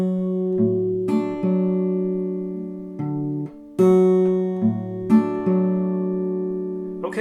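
Acoustic guitar notes picked one by one in a steady, unhurried pattern, bass notes alternating under ringing higher strings, clear and close with no talking.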